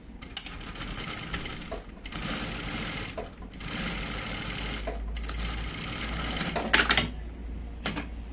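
A sewing machine stitching fabric runs close and loud in several rapid whirring bursts of a second or two, separated by brief pauses, with a small clatter near the end.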